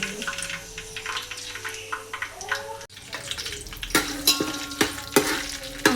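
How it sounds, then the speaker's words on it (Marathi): Whole spices crackle in hot oil in a pot, sizzling up close while a utensil stirs and knocks against the metal in irregular clinks and scrapes. "हा सर्व खडा मसाला मी आता फ्राय करून देणार आहे"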